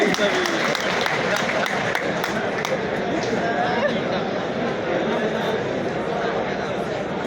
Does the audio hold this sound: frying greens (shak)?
no